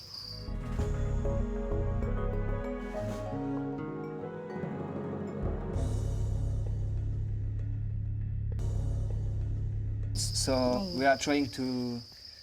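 Crickets raised for food on an insect farm chirp steadily, with a brighter burst of trilling near the end over a constant tonal hum.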